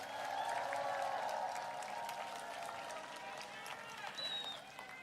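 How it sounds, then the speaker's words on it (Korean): A large outdoor crowd applauds at a political campaign rally in Changwon, South Korea, a distant, steady wash of clapping with crowd noise and a voice over it. "다시 한번 뜨거운 박수 부탁드립니다"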